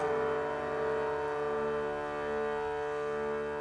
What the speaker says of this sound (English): which gives a lovely thunderous low D.